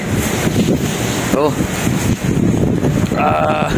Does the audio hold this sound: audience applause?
no